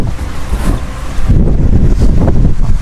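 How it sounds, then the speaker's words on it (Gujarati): Steady breeze buffets an outdoor microphone at a shop in the quiet afternoon, a continuous low rumbling whoosh that swells louder about halfway through, with no one talking. "આહા, શું પવન આવે છે."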